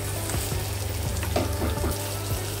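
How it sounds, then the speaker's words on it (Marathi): Onions and tomatoes fry in hot oil for a green curry, giving a continuous close sizzle with soft crackles and brief stirring sounds throughout. "आतां टमाट घाता आनी मातशें भाजिता"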